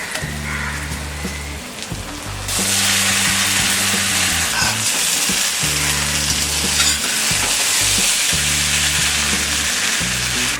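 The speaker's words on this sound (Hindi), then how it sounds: "अब हम इसमें डालेंगे ये कुक्ड वर्मिसेली।" Cooked vermicelli is tossed into a pan of fried vegetables for sevai upma, the quieter sizzle jumping to a loud, dense crackle once it lands, with repeated scraping stirs throughout and no speech.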